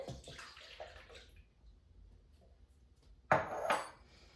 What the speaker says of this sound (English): So what you do is just pour your milk in